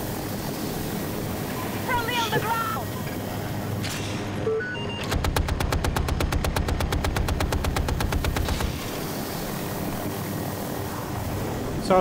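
Helicopter in Battlefield 2042 on the Hourglass map during a Conquest match, a steady rotor drone under talk, joined midway by a rapid burst of machine-gun fire lasting several seconds.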